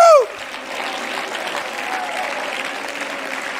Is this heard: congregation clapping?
yes